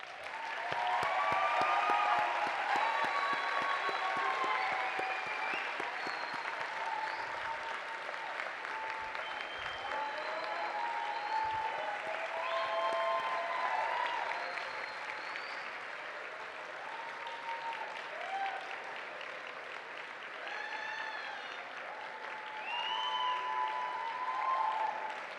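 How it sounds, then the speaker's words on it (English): Graduation commencement audience of families, friends and professors applauding, a steady, sustained wash of clapping from a large crowd lasting the whole stretch, with faint voices underneath. "Turn to your families, friends, and professors and give them a round of applause."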